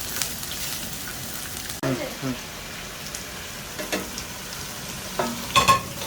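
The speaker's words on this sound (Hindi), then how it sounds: "वाइफ ने मेरी ड्यूटी प्याज फ्राई कराने पे लगा दी है।" Chopped onions frying in hot oil toward dark brown for Sindhi biryani, a steady sizzle broken by a few scraping stirs and clatters of the spoon near the end.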